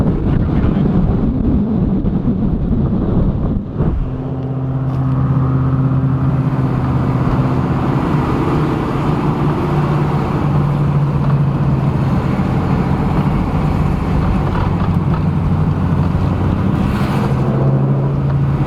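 A Camaro Z28 climbs a very steep road, its engine droning loudly and steadily alongside heavy wind buffeting on the microphone, with no speech.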